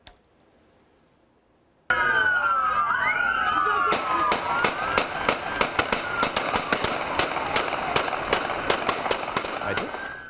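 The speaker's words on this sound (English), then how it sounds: "ended in this hail of gunfire" Rapid bursts of police gunshots crack repeatedly over a wailing siren at the end of a car chase, volleys coming in irregular clusters, with excited voices mixed in.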